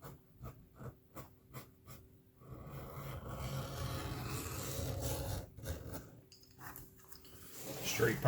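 Trimming the edge of a leather journal cover with a blade or scissors, starting with a row of short rhythmic snips and then moving into a longer continuous scraping cut, close and fairly quiet.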